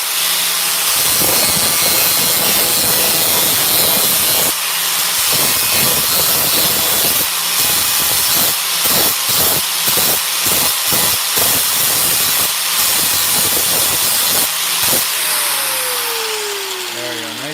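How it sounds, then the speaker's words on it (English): Welding on a Losi LST rollcage produces a loud, continuous crackling hiss broken by a run of short, rapid bursts in the middle, close and steady throughout. "I forgot which side I'm supposed to weld it on."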